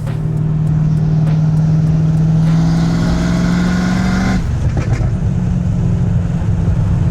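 A Ford Mustang Foxbody engine with SLP Loudmouth open exhaust dumps idles and rumbles with a rough, uneven exhaust note, then shifts to a deeper, choppier burble partway through.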